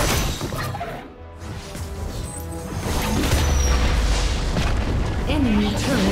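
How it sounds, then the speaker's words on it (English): An enemy turret is destroyed in the mobile game Wild Rift, producing a booming crash among busy battle effects, with a game voice heard over it. "Enemy turret destroyed!"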